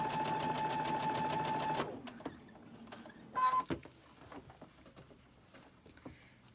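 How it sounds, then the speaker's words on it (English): A sewing machine runs in a fast, steady burst stitching pinwheel seams on a cotton quilt, then stops, leaving faint handling clicks and rustles of fabric. "we're going to sew it"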